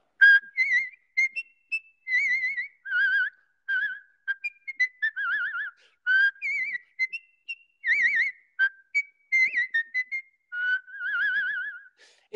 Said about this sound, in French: Le vrai nom, c'est la truite de Schubert.